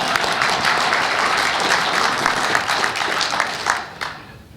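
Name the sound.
audience applause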